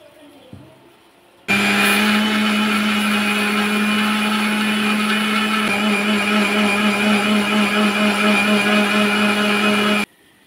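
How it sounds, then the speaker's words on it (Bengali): A mixer grinder whirs loudly and steadily for about eight seconds as it grinds soaked rice with a little water in its jar, starting abruptly and cutting off just as suddenly. "এখন এই চালগুলোকে মিক্সির জারের মধ্যে নিয়ে নেব"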